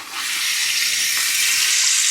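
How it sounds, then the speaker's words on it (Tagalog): Water streams steadily from a water purifier faucet, a close, continuous hiss and splash that holds at an even loudness throughout with no talk. "Diretso lang yung tubig niya pag naka-straight pa baba."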